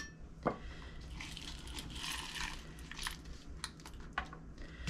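Dried beans being handled for washing and soaking: faint, scattered clicks and light rattles of hard beans tapping against a container, quiet and close, with no talking.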